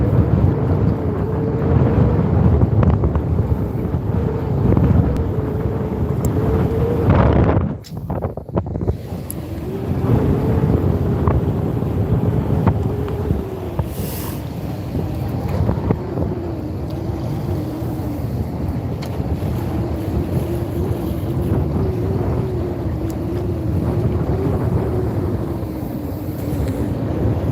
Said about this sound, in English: The wind's pretty heavy today, guys.